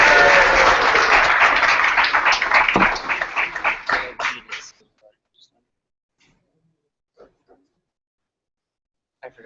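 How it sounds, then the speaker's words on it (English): Audience at a Laravel DFW meetup applauds as Nathan Barrett is introduced, dense clapping filling the room for about four seconds before tapering off into near silence with a few faint stray sounds. "Come on, give him a round of applause, please."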